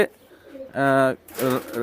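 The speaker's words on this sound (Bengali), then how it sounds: "রানিং উড়ানোর জন্য কবুতর এখানে রাখা আছে" Pigeons kept in a loft for flying coo close by, two short throaty coos after a faint softer one, loud and distinct with brief gaps between.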